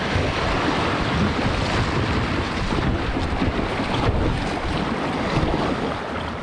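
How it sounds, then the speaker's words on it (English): Rushing river rapids on the Kettle River in Minnesota's Banning State Park, heard from a kayak: a steady, loud roar of churning water mixed with wind buffeting the microphone, with no voices. "And there's some rapids right here."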